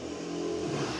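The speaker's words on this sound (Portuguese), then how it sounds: "moto passando." A motorcycle passing by outside, a steady engine drone with a slight rise in pitch, heard indoors at moderate distance without speech.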